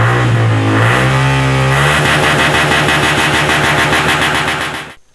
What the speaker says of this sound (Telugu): ఎక్సలేటర్ ఇచ్చినా కొద్దీ బండి సౌండ్ ఎట్లా పెరుగుతున్నదో చూడుండ్రి